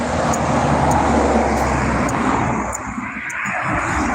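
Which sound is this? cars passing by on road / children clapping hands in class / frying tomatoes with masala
cars passing by on road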